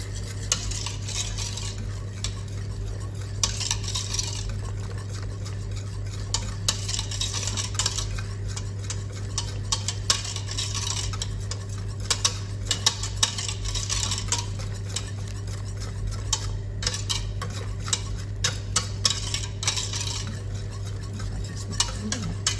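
Doughnut pudding mixture with lemon curd is stirred in a pan, producing steady scraping and light clinks of utensil on metal over a constant low hum, near and moderately loud, with no voices.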